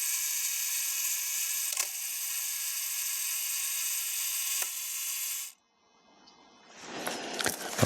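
A camera shutter fires: a steady high-pitched whir with two faint clicks, then an abrupt cutoff to near silence before rustling handling noise rises at the end.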